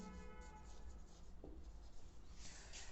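Pen or pencil scratching steadily across a paper worksheet at close range, a continuous soft scraping with faint background hum and no talking.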